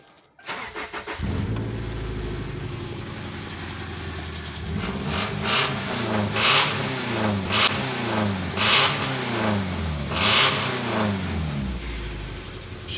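A 2000 Subaru Outback fitted with a 2011 engine, a fresh timing belt, new belts and pulleys, an E85 tune and dual exhaust cranks and fires up, settles into a steady idle, then gets three sharp revs, loud and close with no talking.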